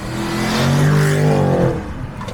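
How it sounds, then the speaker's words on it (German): A BMW 650i's 5-litre V8 engine revs hard, its deep growl climbing and holding loud before easing off, with a raspy, throaty exhaust tone. "Oh, der klingt so schön, dieser 5 Liter V8."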